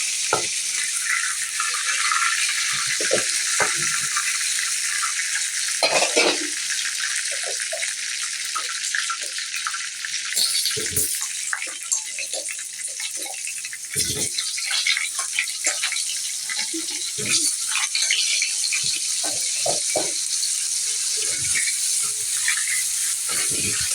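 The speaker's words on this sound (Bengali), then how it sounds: "এখন আলুটা ভেজে নেব।" Potatoes frying in oil in a pan, a bright continuous sizzle and hiss throughout, with occasional low knocks and clatters of a spatula or pan, close and fairly loud, no voices.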